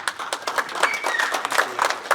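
An audience applauds during a county administrative committee meeting on a refugee resolution, with a short patter of clapping from a modest crowd in a hall, moderately close and without speech.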